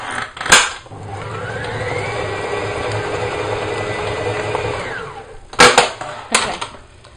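An electric mixer whirs at a steady pitch for about four seconds as it blends cheesecake batter for a blueberry cheesecake, with clattering knocks against the bowl before and after.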